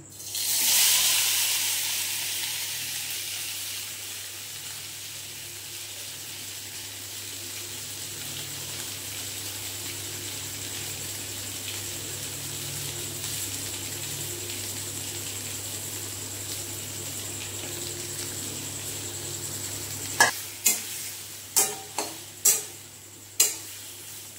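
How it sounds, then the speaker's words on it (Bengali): Whole spices hit hot oil for a sesame potato curry with roasted sesame, a loud burst of sizzle that quickly settles into a soft, steady hiss, followed by a few sharp taps near the end. "তো এটা এবার ফোড়ন দিয়ে দিচ্ছি।"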